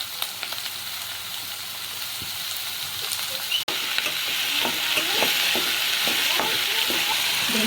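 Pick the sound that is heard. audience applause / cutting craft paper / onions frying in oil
onions frying in oil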